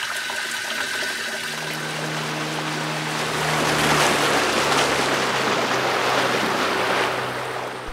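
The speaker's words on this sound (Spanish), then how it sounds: "Este es el río Bambana" Water of the Bambana river rushes in a steady, full wash of noise that swells slightly midway and holds, with a low droning hum underneath and no voices.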